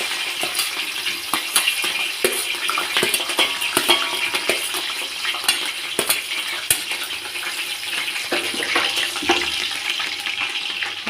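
Chopped garlic and green chillies frying in hot oil for mushroom fried rice, a steady crackling sizzle with scattered sharp pops and stirring clatter, close and continuous with no talking.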